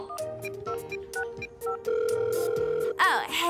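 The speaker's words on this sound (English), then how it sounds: "And finally, the long distance phone call." A cartoon telephone rings for a long-distance call, a series of electronic tones and trills chirping in an uneven rhythm, ending with a warbling burst.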